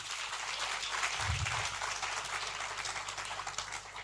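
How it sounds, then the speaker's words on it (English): Applause from an audience at a business capacity-building forum, a steady wash of many hands clapping together, fairly faint and distant, with no voices over it. "So clap for yourselves too."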